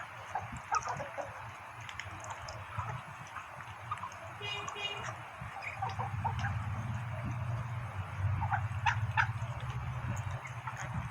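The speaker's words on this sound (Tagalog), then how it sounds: "May pato, may native na manok." Backyard native chickens, kept alongside ducks, cluck and call here and there over a low rumbling background, with a few sharp ticking sounds, moderately close.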